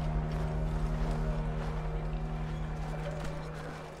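Horse hooves clip-clop rhythmically in Assassin's Creed III, steady close footfalls over a low droning game soundtrack that fades slightly toward the end.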